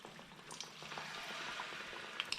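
Battered, marinated chicken pakora sizzles and bubbles softly in hot oil, a faint steady crackle with scattered pops.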